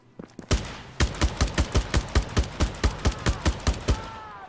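Video game gunfire ringing out as a rapid string of about fifteen loud, evenly spaced shots, close and sharp, starting after a brief pause and ending with a faint ringing tail.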